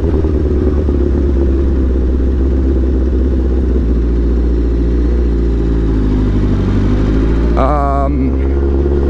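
Sports motorcycle riding, a loud steady engine rumble with heavy wind buffeting throughout, and a brief rising rev near the end, close and continuous.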